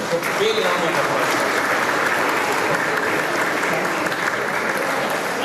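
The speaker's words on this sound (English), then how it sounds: "So big round of applause." Loud sustained applause from a large audience at a golden jubilee reunion of a 1975 medical college batch, dense even clapping throughout with a faint murmur of crowd voices underneath.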